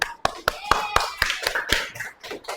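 Rhythmic hand clapping in a classroom, about eight sharp, evenly spaced claps from a small group, close and fairly loud, with a voice at the end.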